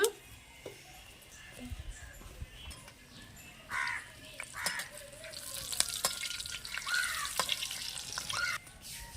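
Dry red chillies frying in hot oil in a pan for tempering, a soft sizzle with occasional crackles, fairly faint and close, crows cawing faintly in the background.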